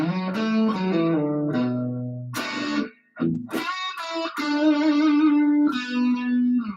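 An electric guitar plays a bluesy, funky lick with effects, bending and sliding notes in a loose rhythm, loud and close.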